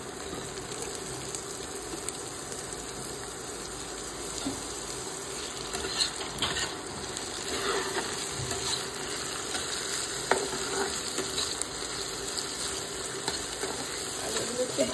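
Cut potatoes fry with curry leaves in a pan while being made into chire poha, giving a constant hissing sizzle with occasional stirring scrapes and faint background murmur.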